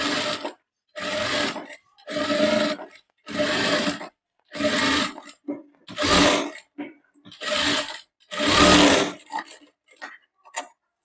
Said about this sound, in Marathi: आता इथे काय करायचं, आपल्याला शिलाई देऊन घ्यायची.